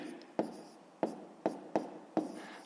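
Pen or pencil marks on paper while numbers are written out for a sixth-grade fraction exercise, five crisp taps and short strokes spaced about half a second apart, close and clear.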